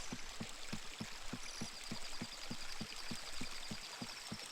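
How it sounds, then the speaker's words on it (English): Night-time river ambience in Ocarina of Time: a soft, steady rushing of water with faint, regular low thumps pulsing underneath, quiet and continuous with no speech. "I like just the sound of the river running at night."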